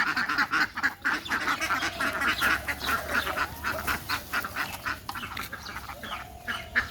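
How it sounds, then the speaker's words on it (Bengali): Native domestic ducks on a duck farm quack repeatedly in a busy, overlapping chorus, loud and close, with uneven bursts of calls throughout and no talk. "এগুলো আমাদের দেশি পাতি যে হাঁসগুলো বলা হয়"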